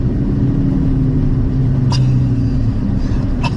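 A steady, low engine rumble from an Aston Martin DB11 sports car running at a constant pace, gearbox in Sport Plus, with faint brief ticks near the end.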